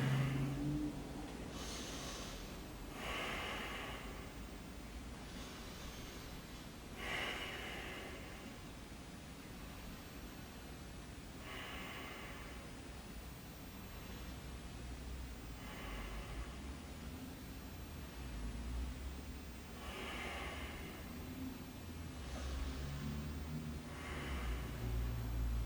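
Slow, deep breaths drawn in and let out during a yoga stretch for hockey players, each inhale and exhale a soft airy rush, close and quiet, repeating every few seconds over a faint steady hiss.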